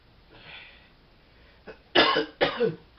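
A person coughs close by: one small cough, then two harsh, loud coughs in quick succession.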